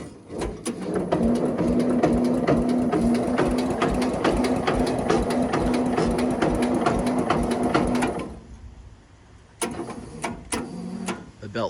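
A Jacobsen Chief 1200 garden tractor runs on a cold start at half throttle, out of gear, with a steady rapid mechanical chatter and ticking. It cuts off near the end, then briefly catches again.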